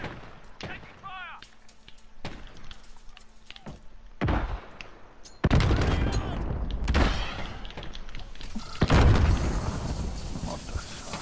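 Gunfire and explosive booms in the multiplayer shooter Call of Duty: Modern Warfare, a 2v2 alpha match, as loud bursts of shots and blasts come in clusters with quieter gaps between.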